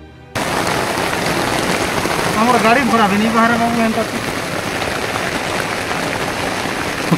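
Heavy rain pours down steadily in a village during rice-growing season, a dense, loud roar that runs through the whole clip while someone talks over it partway through.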